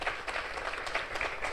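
A crowd at a prize-winners event in Guatemala applauds in a dense, steady wash of clapping, moderately distant and sustained without pause.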